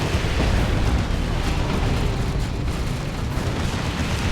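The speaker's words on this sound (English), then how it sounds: "maybe to try to provide their own artillery to answer back to that Manticore" Continuous loud rumbling barrage of Manticore artillery explosions in the Warhammer 40,000 strategy game Dawn of War II: Retribution, dense booms rolling together without a break.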